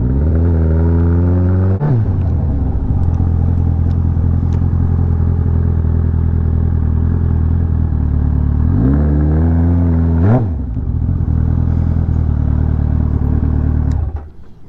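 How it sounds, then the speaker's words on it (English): Kawasaki ZX14R motorcycle with a quick shifter, loud close engine holding a steady drone broken by sharp rising revs and quick clipped shifts, ending with a drop in power. "That damn quick shifter. Listen."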